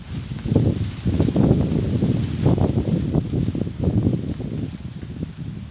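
Wind gusts buffet the microphone in a steady, rough roar that rises and falls in repeated surges, loud and continuous throughout with no voices.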